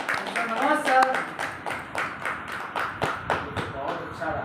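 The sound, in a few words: audience applauding to welcome a speaker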